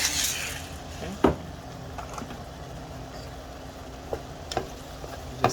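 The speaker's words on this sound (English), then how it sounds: "We're just gonna keep this bad boy going till we got some nice browning on all the sides" Beef chunks sear and brown in a hot stew pot, giving a steady close sizzle with a few sharp clinks of a utensil against the metal.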